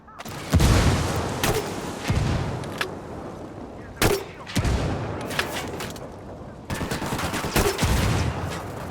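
A grenade blast and gunfire in Ghost Recon Wildlands: loud, sharp bursts of rapid shots and heavy booms come in several clusters, separated by brief rumbling lulls.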